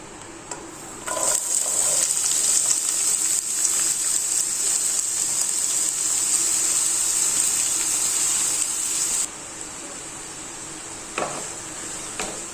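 Green chili, ginger garlic paste and curry leaves hit hot oil in a pan for chicken, bursting into a loud, continuous close sizzle with a few stirring knocks, then dropping to a softer crackle near the end.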